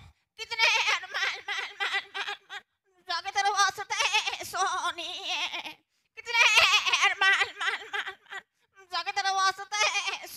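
A performer on an Assamese comedy stage show imitates a goat kid's bleating in repeated quavering bursts, several separated by short pauses, loud and close.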